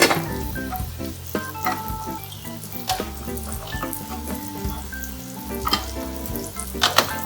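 Salted egg sauce frying with prawns in a hot pan, a steady close sizzle broken by clinks and scrapes of stirring.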